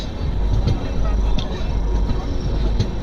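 Train departing Saharanpur Junction on the Hemkunt Express from Rishikesh toward Katra in hot weather: a continuous heavy rumble of wheels and carriage noise, close and steady, with faint clanks and no speech.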